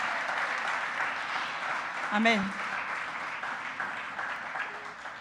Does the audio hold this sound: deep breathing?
no